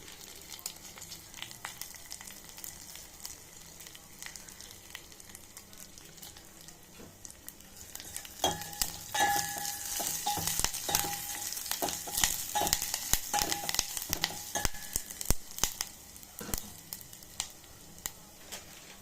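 Curry leaves and dried red chilies sizzle in hot oil for pappucharu, a soft frying hiss that swells louder and busier after the first few seconds, with scattered crackles and pops close by.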